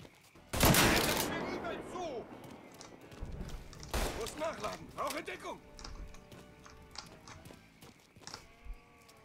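Gunfire in the video game Mafia III: a sharp, loud burst of shots early on, then another crack a few seconds later, mixed with clattering game effects and someone talking.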